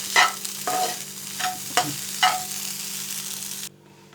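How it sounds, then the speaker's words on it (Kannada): Eggs frying in oil in a pan, a constant close sizzle with several sharp scraping stirs of a spatula, cutting off abruptly near the end. "ಮೊಟ್ಟೆ ಎಲ್ಲ ಚೆನ್ನಾಗಿ ಫ್ರೈ ಆಗಿದೆ ನೋಡಿ."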